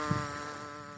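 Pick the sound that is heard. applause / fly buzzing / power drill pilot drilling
fly buzzing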